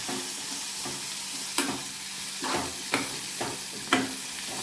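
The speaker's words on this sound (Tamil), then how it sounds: "பிரண்டையோட எல்லா இலையுமே கம்ப்ளீட்டாக ஆட் பண்ணிக்கலாம். நல்லா ஃப்ரை பண்ணிக்கலாம்." Pirandai (adamant creeper) leaves fry in a pan, a steady sizzle broken by several distinct spatula scrapes and knocks at an uneven rhythm, heard up close with no talking.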